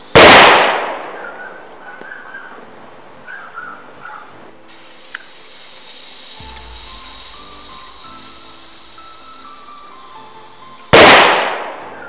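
A loud, close Bison 4 firecracker blast at the start, followed by faint hissing and crackling, then a second sharp bang near the end.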